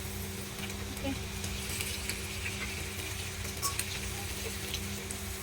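Garlic sautéing in melted butter and olive oil for garlic buttered shrimp gives a steady, soft sizzle with faint crackles throughout, and a low hum sits underneath.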